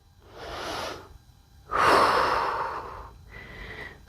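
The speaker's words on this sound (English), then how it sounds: "And breathing." Slow, deep breaths during a revolving yoga stretch in a calisthenics-style routine: three soft breath cycles, close and fairly quiet, with a stronger inhale-exhale in the middle and no talking.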